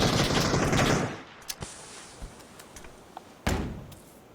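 PUBG video game gunfire opens with a dense burst of rapid automatic shots that stops after about a second, followed by a few scattered single shots and clicks, one sharp loud shot near the end, no voices.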